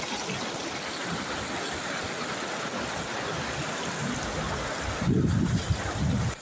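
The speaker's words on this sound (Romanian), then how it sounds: "Pompierii au intervenit cu mai multe autospeciale dotate cu motopompe" Fire engines with motor pumps pump out floodwater, giving a constant broad rushing and gushing wash. A louder burst of splashing, churning water comes near the end.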